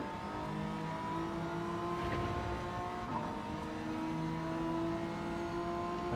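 Toyota race car engines in Gran Turismo 7 at the Barcelona circuit drone steadily, with layered high revving tones from several cars running close together, loud and continuous throughout with slight pitch shifts as they accelerate.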